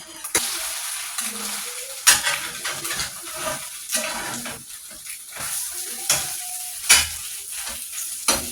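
An egg fries in a pan with a steady soft sizzle, broken by scraping stirs and sharp metallic taps of a utensil against the pan, heard up close and alone.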